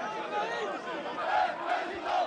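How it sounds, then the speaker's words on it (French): A large crowd at a May Day rally cheers and chants for Jean-Marie Le Pen's election result, a loud, continuous roar of many voices rising and swelling. "la foule célèbre le 1er mai le succès électoral de Jean-Marie Le Pen"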